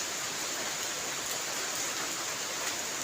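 Steady rain falls continuously on a village entry road in the morning, a dense unbroken hiss with no voices, even and moderately loud throughout.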